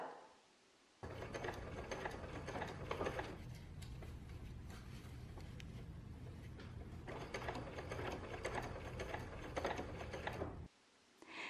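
A sewing machine runs steadily, stitching a curved seam in fabric, with a constant mechanical whir and needle clatter for about ten seconds. It begins and ends abruptly and is heard close up.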